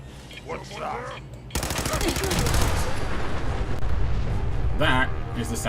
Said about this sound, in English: That is the sound of a nuke going off in your face.